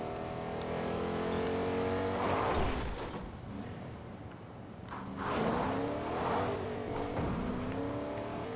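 A car in a video game drives and revs loudly, its engine rising and falling in pitch as it accelerates and shifts, with bursts of tire squeal and skidding. The sound is continuous and close.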